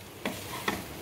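Lotus root masala frying in a pan, stirred twice with short scraping strokes over a quiet, steady sizzle.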